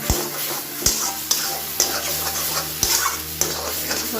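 Taro is stirred in oil in a frying pan, with regular spatula strokes knocking and scraping about every half second over a low, continuous sizzle, close and fairly loud.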